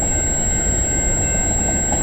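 A freight train rolls past at close range, including a Government of Canada hopper car, giving a loud, steady rumble and rattle of rail cars with a faint high squeal running throughout.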